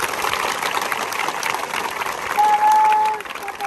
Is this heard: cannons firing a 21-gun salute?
no